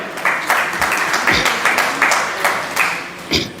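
An audience at a humorous poetry recital in Kanpur applauds, a dense sustained crowd clapping with a few louder accents, faint voices mixed underneath.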